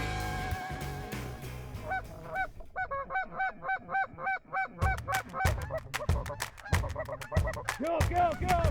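Speckle-bellied geese honk repeatedly and loudly at close range during a waterfowl hunt, a dense chorus of rising, yelping calls with sharp bursts of noise between them.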